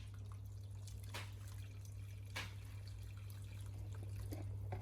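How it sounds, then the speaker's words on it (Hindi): Hot boiling water poured into a pot of meatball kofta curry, a soft steady trickle and splash under a constant low hum, with a couple of brief sharper clinks of a ladle or pot. "अब आप इसके अंदर गरम उबलता हुआ पानी डालें"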